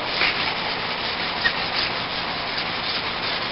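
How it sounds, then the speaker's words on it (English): Hand sanding an EcoTop surface with 150 or 200 grit sandpaper makes a continuous, close, dry rasping rub with even strokes and no pauses or talk. "You're going to probably grab 150 or 200 grit sandpaper, something of that nature"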